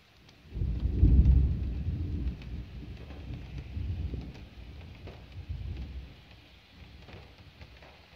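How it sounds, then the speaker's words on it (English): Light rain sprinkles steadily through a brief rainstorm, a soft continuous patter with low rumbling swells near the start and a quieter spell toward the end, with no voices. "Much of a rainstorm now. It's mostly just sprinkling."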